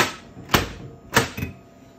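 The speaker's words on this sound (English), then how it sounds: "bill acceptor is gonna go through a little test" Two sharp mechanical clacks about half a second apart, followed by a softer click, as a bill acceptor whirs through a brief self-test nearby.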